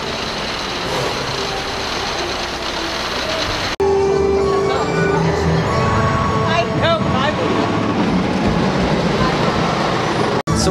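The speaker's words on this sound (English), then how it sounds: "So we're currently on the 12 Days of Christmas train" A Christmas-themed train ride at Dollywood rolls along its rails with a steady rumble and clatter, brief squeals and a mid-clip jolt, while people talk and sing nearby.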